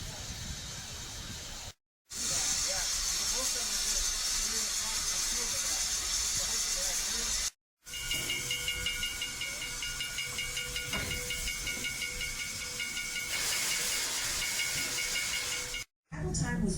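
A steam locomotive on the 1880 Black Hills tourist railway toward Hill City gives off a continuous loud hiss of escaping steam, broken by brief silent gaps. A steady whistle-like tone joins partway through.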